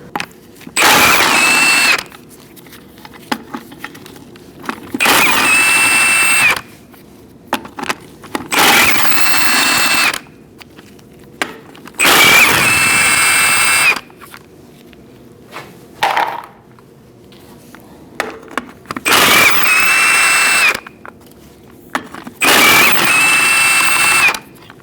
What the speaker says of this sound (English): Using a 19mm socket, we're going to take off our wheel.